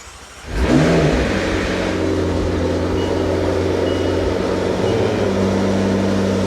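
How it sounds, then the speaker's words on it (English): A crashed McLaren 650S Spider fires up with a sharp catch, then settles into a loud, steady idle with a deep hum, and the engine swells briefly near the end. "let's start her up for the last time before we leave"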